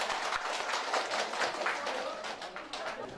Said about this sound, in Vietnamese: xin mời tất cả cho một tràng pháo tay ạ